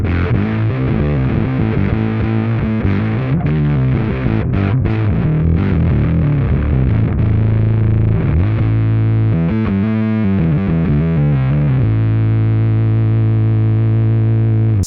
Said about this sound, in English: That one gets really nasty if you introduce the octaver of the Kaamos as well.